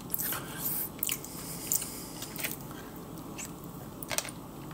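Marshmallows and ice cream bitten and chewed close up, with soft squishy mastication sounds and a few sharper bite clicks spread through the stretch, no talking.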